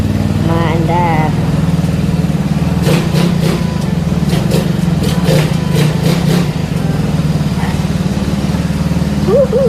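A stock Yamaha Mio scooter engine runs loud and close after a hard start, a steady buzzing idle with a burst of revving in the middle. Voices talk and exclaim over it.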